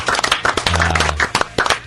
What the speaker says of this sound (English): a big thanks and a round of applause to Brian Spike Buckowski from Terrapin Brewing Company